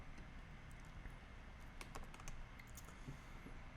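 Steady, soft typing on a computer keyboard, a continuous run of light key clicks heard alone at low level.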